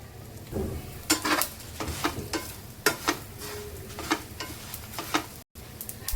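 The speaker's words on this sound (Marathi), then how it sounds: "खडे मसाले ते पण भाजून घ्यायचे आहे आपल्याला। तेल टाकून घेऊया थोडंसं।" Whole spices roast in a little oil while being stirred, with a soft sizzle beneath repeated scraping and clinking strokes of a spoon against the pan, each stroke clear and close.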